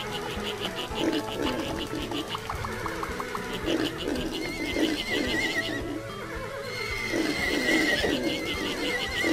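Cartoon horses in the farm-management game Farm Frenzy whinny repeatedly amid clip-clopping hooves and busy game sound effects, a steady run of neighs over several seconds.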